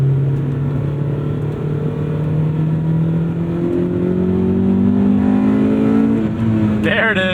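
A 1998 Honda Civic Type R EK9 engine revs hard and climbs steadily in pitch as it crosses into VTEC, loud and close throughout, with a voice breaking in at the end.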